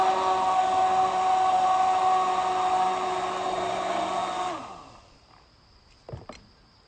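An immersion blender whirs loudly and steadily through a homemade soap mixture of coconut and olive oil, then winds down and stops, followed by a couple of faint knocks.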